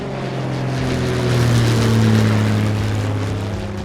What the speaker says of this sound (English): the chartered plane took off from Miraculous Airport